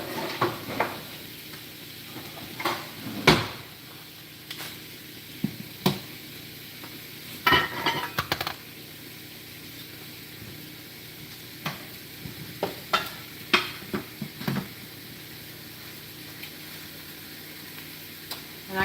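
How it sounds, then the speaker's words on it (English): Ribeye steak searing in a pan gives a steady low sizzle, broken by repeated sharp clicks and scrapes of utensils against the pan. A few brief voice sounds come through at the edges. "my ribeye steak I have right here in my pan on this side, right here. We're just gonna let this get a nice sear on it."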